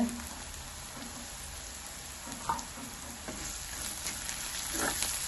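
Onions with a pinch of salt sautéing in a pan for a vegetarian fish-style gravy, a soft steady sizzle with faint stirring clicks, close and alone.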